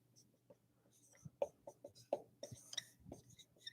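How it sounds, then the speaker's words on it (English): Marker or pen writing out a formula on a board during a statistics class, a series of short scratchy strokes and taps at close range, with a faint hum underneath and no talking. "I'll just write out the full thing."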